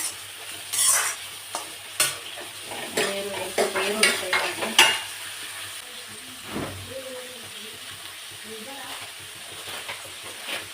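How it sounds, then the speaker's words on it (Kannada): Onions and beans fry in oil with a soft sizzle, while a spoon scrapes and clatters in irregular bursts against the pan, moderately close and fairly quiet. "ಎಣ್ಣೆಗೆ ಒಂದು ಒಂದು ಈರುಳ್ಳಿ ಹಾಕೋಣ ಬೀನ್ಸ್ ಹಾಕೋಣ ಫ್ರೈ ಮಾಡ್ಕೊಳ್ಳೋಣ"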